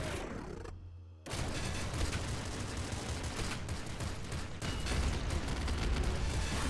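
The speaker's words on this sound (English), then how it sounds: "We'll go with a Gatling Slugger" A Gatling Slugger in the Nuclear Throne Ultra Mod video game fires continuous rapid bursts. Dense, loud gunfire clatters almost without pause after a brief gap at the start.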